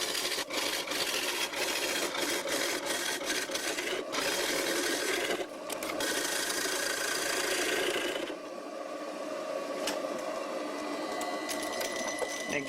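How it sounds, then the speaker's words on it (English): Wood lathe running at about 800 RPM while a homemade bowl gouge cuts a bowl, giving a steady broadband scraping and rubbing hiss with brief lighter pauses, close and continuous, with a quieter tool-contact stretch near the end. "The lathe is running about 800 RPM."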